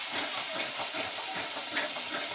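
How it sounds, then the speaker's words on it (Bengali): Red chili powder masala sizzling in hot oil as it is sautéed for a Shankar fish curry, a steady broadband hiss that continues close and moderately loud for the whole stretch with no talk. "লাল মির্চে 1 চামচ দিলাম, দিয়ে আমি কষাবো মশলাটাকে।"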